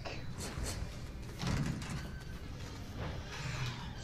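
A sliding door rolls open in the video game Resident Evil, a mechanical rumble and scrape with a couple of heavier clunks, set low under a faint background bed and mixed with soft talking.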